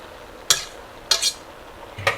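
A fork scrapes and clinks against a pan while breaking apart lazy pierogi dough, three short sharp metallic taps spaced unevenly, close and clear over quiet background.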